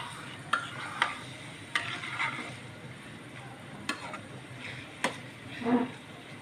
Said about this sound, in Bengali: ভালো করে উল্টিয়ে পাল্টিয়ে দিতে হবে যেন নিচে না লেগে যায়